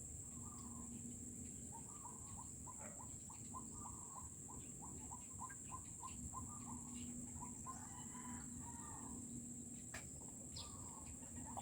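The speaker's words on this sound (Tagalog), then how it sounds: "itong lugar namin napakaraming ibon sa umaga." Many birds chirp and call in a busy early-morning chorus, with roosters crowing mixed in over a steady insect drone and faint background hiss; no one speaks.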